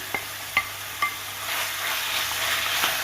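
Eggplant pulp being stirred into cooked kofta meat in a pan, a few sharp spoon scrapes early and then a steady soft sizzle, close up with no talking.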